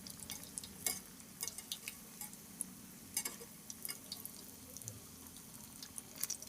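Banana flower vada frying in hot oil, a soft continuous bubbling sizzle with scattered faint crackles and pops, quiet and without talk.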